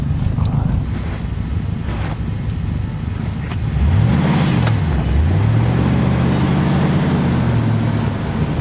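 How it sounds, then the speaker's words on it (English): A car stuck on ice revs up from outside, its engine tone swelling and dipping in a few rising strains under loud wind buffeting on the microphone, with no talking. "maybe just try and drive it out from where it is now, and then we'll lay down sand if we have to"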